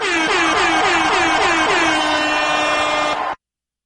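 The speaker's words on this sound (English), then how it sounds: "What is with that air horn?" A loud air horn blares right up close, starting with a series of quick rising whoops that merge into one long steady blast before cutting off abruptly.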